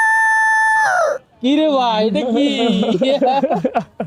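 A voice imitates a rooster, holding one long steady crowing note before breaking off, then continues in a wavering, laughing cackle, loud and near, with a short spoken question.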